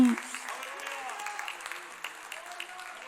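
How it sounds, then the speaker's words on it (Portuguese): Church congregation applauding during a sermon, a soft, steady patter of many hands lasting a few seconds under a preacher's raised voice. "Quem recebe esta palavra, aplauda bem alto"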